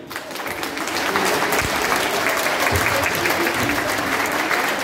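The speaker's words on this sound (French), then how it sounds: "On vous applaudit." A studio audience at the French radio quiz show Le jeu des 1000 euros claps in sustained, dense applause that swells quickly after a soft start and stays loud and even throughout.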